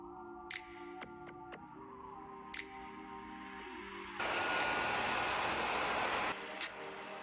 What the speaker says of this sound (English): And then I'm gonna follow up with a blow dry to really sleek it down.